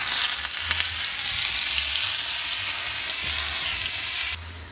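Tomato hitting hot oil in a pan, a loud continuous close sizzle with low stirring bumps, steady throughout and cutting off slightly at the end, no voices.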